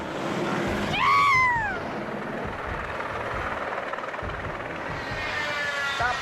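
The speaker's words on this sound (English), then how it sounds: "a helicopter accident occurred in Brasilia, Brazil" Helicopter involved in an accident in Brasilia, Brazil: a loud, steady broadband rotor and engine roar with a rising-falling whine near the start, continuous throughout.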